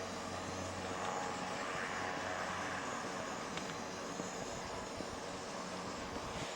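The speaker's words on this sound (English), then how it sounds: "in the background you can hear a plane taking off from the same area where they dropped us off" A faint, distant airplane taking off in the Gates of the Arctic wilderness near the Noatak River drones steadily in the background, a continuous low roar with no voices.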